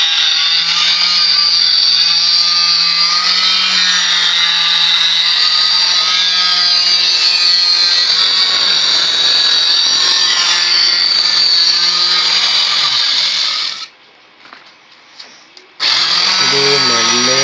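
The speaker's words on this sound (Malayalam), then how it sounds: "ഇവിടെ ഒരു സിങ്ക് കട്ട് ചെയ്യാനുണ്ട്. നമ്മൾ കട്ടിങ് തുടങ്ങിയിട്ടുണ്ട്." A power tool cuts a sink opening into full-body tile, giving a loud, sustained, close high-pitched whine and grinding that drops out briefly near the end before resuming.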